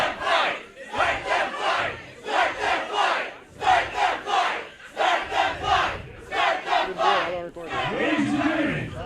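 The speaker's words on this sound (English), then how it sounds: "Crowd is cheering for him to let him fight." Spectators at a Showtime Pro Wrestling event chant loudly and rhythmically in unison, a roaring crowd pulsing in repeated bursts with brief pauses between them.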